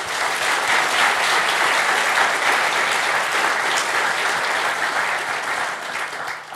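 Sustained applause from a seated audience welcoming Justice Michael Kirby at a public conversation event, dense and steady clapping throughout that tapers slightly at the very end.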